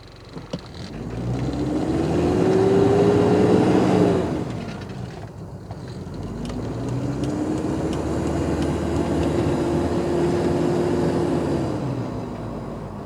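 A Toyota Hilux Surf JDM import with a 3-litre four-cylinder engine is heard from inside the cabin. The engine drone rises, holds and falls away, then swells again into a longer steady pull before easing off, with no talking.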